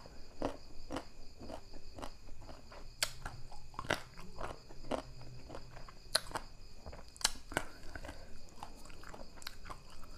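Crunchy pickled mango dipped in chili salt is bitten and chewed close up, with sharp, irregular crisp crunches spread over several seconds, fairly quiet and without speech.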